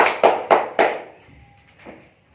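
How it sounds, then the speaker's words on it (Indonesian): Three sharp claps of a small group in a classroom, applauding a student discussion group, each burst ringing briefly before fading into quiet room tone. "kita berikan tepuk tangan buat kelompok 2"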